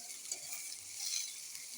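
Chopped onion and garlic frying in a pan for dried fish bharta give off a faint, steady sizzle, soft and close, with no voices over it.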